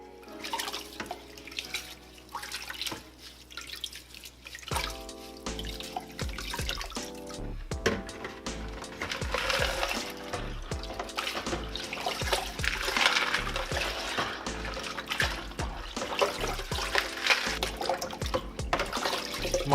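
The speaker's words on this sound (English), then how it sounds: "I'm just going to rinse these mechanical filtration media inside of the water here." Close-up sloshing and splashing of water as mechanical filtration media are rinsed, with drips and a rushing, tap-like flow running continuously throughout.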